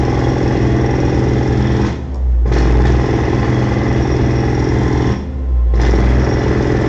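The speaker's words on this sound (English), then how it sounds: "If you guys can hear that jackhammering in the background" A jackhammer rattling loudly and steadily in the background, pausing briefly twice before resuming its harsh, continuous pounding.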